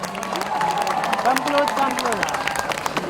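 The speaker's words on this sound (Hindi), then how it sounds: "आप सबके लिए जोरदार तालियां हो जाएं इनके लिए एक बार।" Audience applause at a film song launch event in Jaisalmer, Rajasthan, clapping under a loud announcer's voice and crowd chatter, with the host speaking over it.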